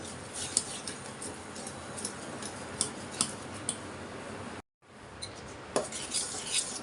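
Vanilla sponge cake batter stirred in a bowl, a steady soft scraping and swishing with sharp utensil ticks against the side, close and fairly quiet, a brief gap near the end.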